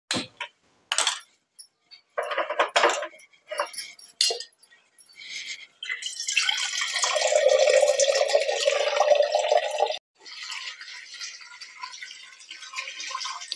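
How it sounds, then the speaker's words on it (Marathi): Water is poured into a pressure cooker holding green peas, green chilli and beetroot for pav bhaji, starting as scattered drips and clinks, then a steady pouring stream for several seconds, close and alone. "2 तांबे पाणी टाकलेले आहे"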